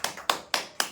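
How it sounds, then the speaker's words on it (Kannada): Four sharp, evenly spaced claps land about a quarter second apart, sounding close and distinct, like an audience clapping in unison. "ಲವಲವಿಕೆಯಾಗಿ ಒಂದು ಚಪ್ಪಾಳೆ ಹೊಡಿರಿ."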